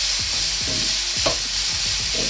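Carrots and other vegetables sauté in oil for fried rice, with a steady sizzle under a rhythmic series of spatula scrapes against the pan, close and without speech.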